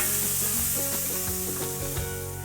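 Onion sautéing in a pan for a chorizo and sweet corn salad: a brief, steady close sizzle with light stirring and scraping, no voices.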